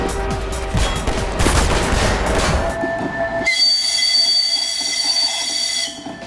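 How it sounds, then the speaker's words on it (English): In the Half-Life video game, the DR-1 train sounds a loud sustained horn. It follows a burst of rattling, clattering rail noise, then holds as a steady tonal blast before cutting off near the end. "In-game, the DR-1 shares the same horn as the Razor train"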